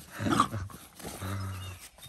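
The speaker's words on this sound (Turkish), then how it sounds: "Böyle yaramaz bir köpek görmedim arkadaşlar." A Kangal dog growls and gives short barks up close, a rough rumbling growl between brief yaps, with no talk over it.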